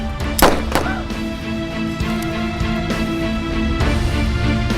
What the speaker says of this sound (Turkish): Silah sesi miydi o?